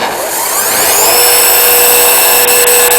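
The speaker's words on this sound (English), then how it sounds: "Turn on the motor system" Mouse hole router machine's motor system starting up, a loud whine rising in pitch over the first second and then holding a steady, close, high-pitched drone.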